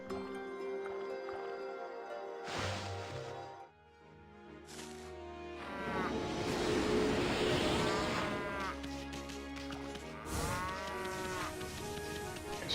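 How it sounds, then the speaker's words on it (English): A cow in the video game Okami gives several drawn-out, tonal moos at intervals over quieter game background sounds. "Cow!"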